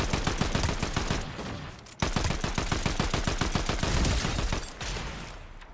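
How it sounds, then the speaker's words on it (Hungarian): Rapid automatic gunfire in a Fortnite match, dense bursts of sharp shots firing nearly continuously, loud and close, with a brief pause midway. "Itt jobbra vannak tőlünk páran és lövöldöznek."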